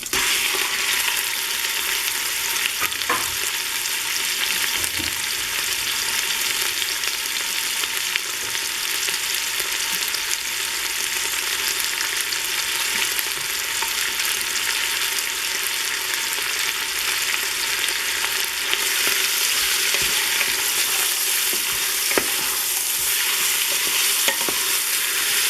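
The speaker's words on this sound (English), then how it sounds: "So I'm going to go ahead and throw my meat in right now so I can sear it." Meat searing in an Instant Pot for carne guisada, giving a continuous bright sizzle and hiss with occasional clicks of stirring and shifting pieces, loud and close and unbroken, with no voices.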